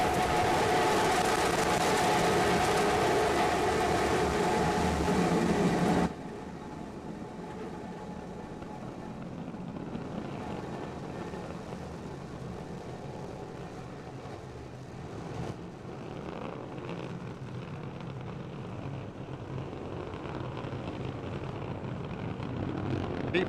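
SpaceX Starship SN15 lifting off on three Raptor engines, a loud broadband roar for the first six seconds that then drops to a quieter, distant rumble that holds steady and swells slightly toward the end.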